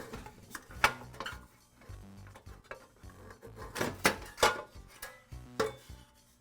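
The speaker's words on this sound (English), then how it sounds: "I can remove the blower housing" Plastic blower housing lifted off a Briggs & Stratton small engine after its four screws are removed, giving a run of close, irregular clunks, taps and scrapes of plastic and metal parts.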